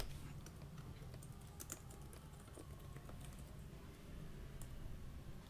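Quiet typing on a computer keyboard, a scattering of soft, irregular key taps over a low steady room hum, faint and close, with no talking.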